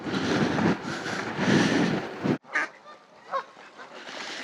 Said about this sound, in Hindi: सारे पहुँचे हुए, छोटी छोटी बतखें और गूस